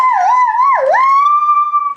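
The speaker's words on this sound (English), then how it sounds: "Oh, somehow Bumblebee got sirens." A wailing police-car style siren plays from a toy vehicle during play with Transformers Bumblebee toys, one loud continuous tone that sweeps up, dips low and then holds steady, with no talking.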